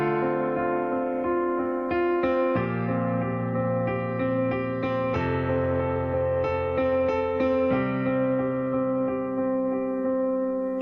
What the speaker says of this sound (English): there's a little melody moving on the top of the right hand